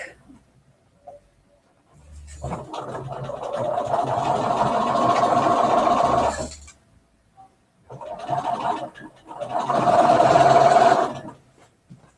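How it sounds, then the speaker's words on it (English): Sewing machine stitching quilt block pieces together in two runs, a steady whirring motor for about four seconds, a pause, then a shorter burst, close and unaccompanied by talk. "going to sew these together"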